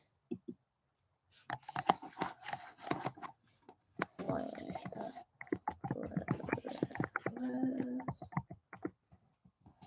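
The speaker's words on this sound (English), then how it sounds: "I'll go ahead and type it here" Keys tapped on a computer keyboard in quick irregular bursts of clicks, close by, with pauses between runs and a voice talking over part of it.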